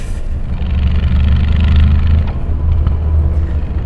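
A Mercedes AMG G63 6x6 drives through a German forest with its handbrake still engaged, producing a steady, loud low engine rumble that swells slightly midway and carries on continuously, with no voices.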